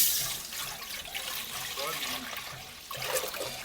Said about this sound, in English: I'll pour it into the pot.